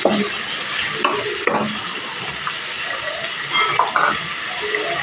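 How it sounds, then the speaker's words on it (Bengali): Carrots and onion stir-fry in a pan for restaurant-style mixed fried rice, giving a steady close sizzle broken by a few stirring scrapes and knocks, with no talking. "এবার এই পর্যায়ে এসে গাজরটা দিয়ে দিলাম। গাজরটা একটু ভাজা ভাজা করে নেওয়ার পর"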